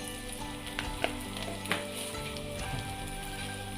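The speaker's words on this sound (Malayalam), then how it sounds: "ഇതിൻ്റെ പൊടിയുടെ പച്ചച്ചവ മാറുന്നത് വരെ ഒന്ന് മൂപ്പിച്ചു കൊടുക്കുക" Kashmiri chili powder, regular chili powder and coriander powder fry in hot oil with a steady soft crackling sizzle, broken by two brief scrapes of a spoon stirring.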